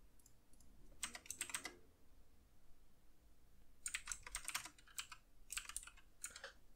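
Quiet typing on a computer keyboard, fast clusters of clicking keystrokes in short bursts separated by pauses, close but faint.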